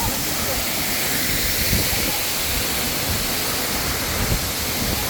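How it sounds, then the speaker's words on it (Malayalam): A steady, roaring rush of falling water fills the whole clip, loud and close, with no break or change in intensity. "ഈ വെള്ളച്ചാട്ടത്തിൻ്റെ ഭയങ്കര കാറ്റടിക്കുന്നുണ്ട് ഇവിടെ"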